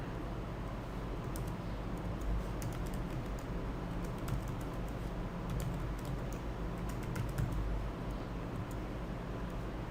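Someone types a password on a computer keyboard. The key clicks come in quick irregular bursts over a constant broadband hum, with no voices.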